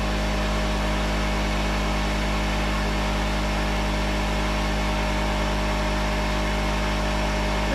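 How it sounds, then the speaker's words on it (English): An air compressor runs in a workshop where machined Shovelhead motorcycle cylinders are being cleaned, giving a steady, loud mechanical drone with a low hum that holds unchanged from start to finish. "Sorry about the compressor, but it's the way it is."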